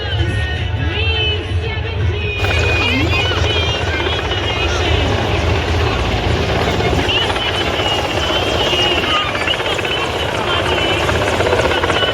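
A loud, steady aircraft engine roar passing overhead at an air show in Rajkot, with excited voices and crowd chatter throughout.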